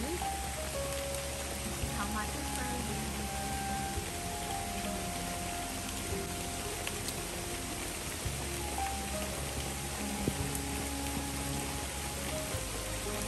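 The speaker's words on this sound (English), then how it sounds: "Outside is raining really hard." Heavy rain falls hard outside, a faint, constant hiss and patter that sits low in the background beneath a quiet indoor hum and tonal sounds.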